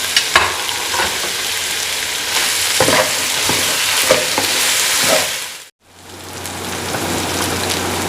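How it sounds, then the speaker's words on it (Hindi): Mutton pieces fry with garlic, ginger and salt in a karahi, a loud close sizzle with frequent stirring scrapes. It cuts out for a moment, then resumes steadily with no talking. "ये देखें मटन हमारा फ्राई हो गया।"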